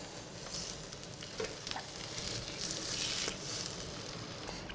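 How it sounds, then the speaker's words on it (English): Soaked sourdough French toast sizzles in a little oil in a non-stick pan, a steady close crackle with a few brief pops and spatters, no voices. "So in a non-stick pan, we're just going to add a little bit of oil. And then we're going to go straight in with our soaked sourdough."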